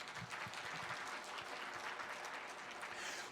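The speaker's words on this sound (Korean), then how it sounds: "그러니 그렇게 살고 간 모세 위에서 박수, 박수, 박수." A congregation applauds at a Sunday church sermon, steady broadband clapping from many hands held for about three seconds, moderately distant and without speech.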